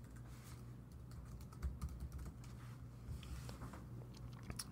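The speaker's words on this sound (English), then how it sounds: "Oh, sorry, I was typing." Someone types quickly on a computer keyboard, and the soft, irregular key clicks come through faintly over a low hum in the room.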